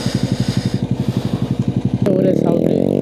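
A small motorcycle rides through traffic in Japan: a steady run of rhythmic pulsing thuds gives way to a louder, continuous rasping engine drone up close.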